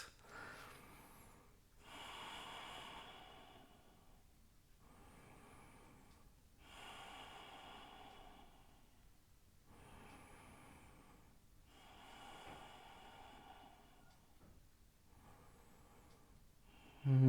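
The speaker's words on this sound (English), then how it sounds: "Breathe." Heavy rhythmic breaths during an intense power vinyasa yoga session, with slow, audible inhales and exhales repeating every couple of seconds, close and fairly faint.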